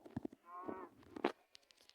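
A Minecraft cow moos once, a drawn-out low call with a few short clicks and thumps around it; no talking.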